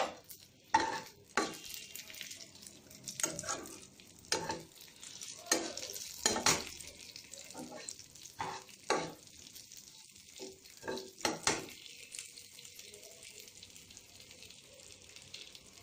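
Nigella seeds and green chilli temper in hot oil, the sizzle broken by frequent scraping strokes of a spatula in the pan, close and intermittent, louder bursts coming irregularly over a quieter background.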